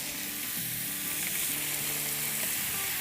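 A doner kebab set down with its paper on a hot tawa griddle over a medium flame gives a loud, steady, close sizzle that keeps going without a break.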